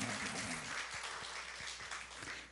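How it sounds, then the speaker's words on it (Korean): A church congregation during worship claps in applause, a dense, moderately distant patter with a few sharper low thumps, steady throughout the short stretch. "박수로 하나님께 영광 돌립니다."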